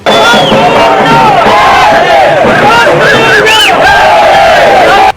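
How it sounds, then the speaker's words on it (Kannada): A loud, dense crowd of supporters chants and shouts slogans for Prakash Kori at a political rally, with layered voices overlapping continuously and without pause across the whole span. "ರಾಜ್ಯ ನಾಯಕರಿಗೆ ಹಾಗೂ ಪ್ರಕಾಶ್ ಕರಿಗೆ ಜೈಕಾರ ಕೂಗಿ ಅಭಿಮಾನ ವ್ಯಕ್ತಪಡಿಸಿದರು"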